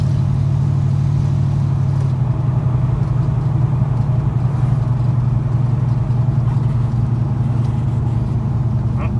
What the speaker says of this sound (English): An old car going by.